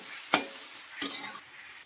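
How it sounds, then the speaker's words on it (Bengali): Onions frying in a pan, heard as two short scraping stirs over a low background sizzle, close and fairly quiet, with no voices. "পেঁয়াজগুলো প্রথমে একটু ভেজে নেব।"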